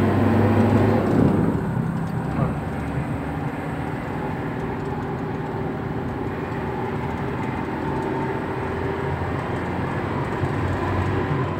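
An old Toyota Kijang's engine drones steadily while the car accelerates hard through the gears, with a bump in loudness early on and a sustained road roar throughout.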